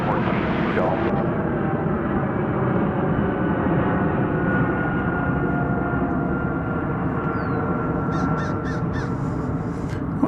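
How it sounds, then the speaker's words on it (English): A Japan Airlines heavy airliner goes around at DFW Airport, its jet engines a loud, sustained roar in the distance that holds steady throughout, while crows caw and someone speaks over it. "Well, a spectacular go-around."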